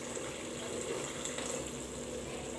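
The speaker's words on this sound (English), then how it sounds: "At this point just put in little water." Water pours into a pan of wet-fried chicken, a short, steady, close rushing hiss that holds evenly throughout.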